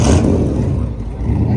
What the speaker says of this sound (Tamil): எக்ஸாஸ்ட் சவுண்ட் பாருங்க.